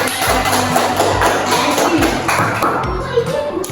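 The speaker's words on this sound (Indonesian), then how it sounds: "Tepuk tangan untuk Baris." Classroom applause for a student named Baris, a dense patter of many hands clapping steadily and close for several seconds, with faint children's voices underneath.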